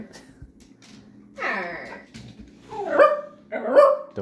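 A Pomsky dog barks in three short bursts, close and fairly loud, with a brief yip, all over a low steady background hum and no talking.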